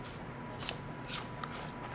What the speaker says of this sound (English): So I just cut it off the core and then I make little